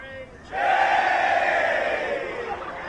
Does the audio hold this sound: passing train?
no